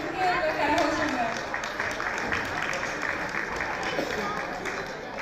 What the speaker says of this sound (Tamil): இங்கே கரகோஷங்கள்